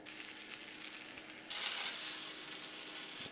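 Cèpe mushrooms sizzle in olive oil with a little salt in a pan. A gentle frying hiss jumps louder and brighter halfway through, then stays as a steady crackle.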